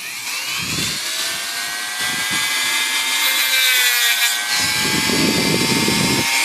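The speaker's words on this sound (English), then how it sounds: "let's take the uh, Dremel tool and cut these little ends off" A Dremel rotary tool cuts small plastic ends off a repaired plastic part, giving a loud, steady high-pitched whine with a slightly wavering pitch and grinding texture. It runs continuously for the whole stretch with no talking.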